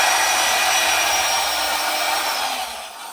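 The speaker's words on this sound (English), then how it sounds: "get a wire wheel" A wire wheel scrubbing the inside of a brake drum from a 1961 Volkswagen Beetle, a loud, steady, dense whirring grind held close for the whole stretch before easing off at the end, with no talking.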